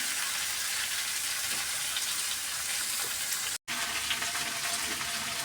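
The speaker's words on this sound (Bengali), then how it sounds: "ভালোভাবে এখন আমি ভেজে নিব তরকারিগুলোকে।" Vegetables fry in a pan, a steady, even crackling sizzle like light rain that continues throughout at moderate level, with one brief dropout midway.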